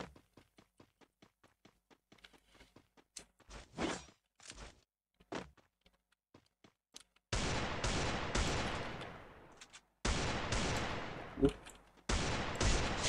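Gunfire in the video game Free Fire, played on PC: scattered single sharp shots at first, then dense, loud sustained volleys of rapid fire broken by brief pauses.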